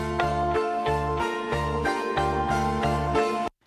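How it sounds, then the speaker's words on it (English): Reversed reverb swells into a music track for an equestrian dance routine, a steady rhythmic passage with repeating low pulses and bright sustained tones that cuts off abruptly at the end, with no talk. "I've taken the first note off the track, recorded some reverb and reversed it"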